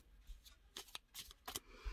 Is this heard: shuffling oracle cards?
yes